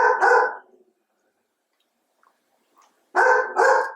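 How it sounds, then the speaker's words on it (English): Close, loud barking from a golden doodle indoors: a quick double bark, a stretch of near silence with faint rustles, then another sharp pair of barks. "Please stop barking."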